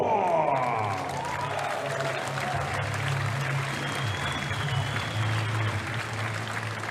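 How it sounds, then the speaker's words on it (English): A room full of people claps warmly for a performer walking onto a stage, producing a dense, even wash of applause that holds steady throughout with no voices breaking through. "Give a round of applause and welcome to the stage"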